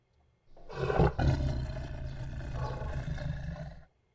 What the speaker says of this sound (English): Tiger growls?